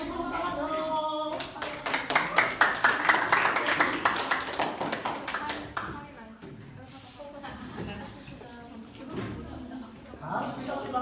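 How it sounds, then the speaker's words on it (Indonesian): A small audience claps for a group at an event, a burst of sharp, rapid hand claps that swells, then thins into scattered claps as speech carries on over it. "Kasih tepuk tangan dong"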